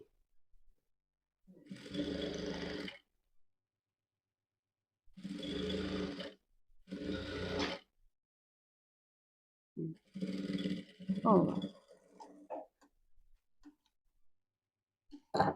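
An electric sewing machine stitches a blouse collar in several short, steady whirring runs with quiet gaps between them, followed by a few shorter, irregular bursts near the end.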